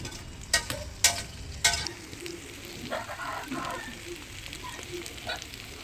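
Chicken fry sizzles in a pan as it is stirred, with several sharp scraping clacks of the spoon early on, then a continuous crackling fry with lighter stirring scrapes.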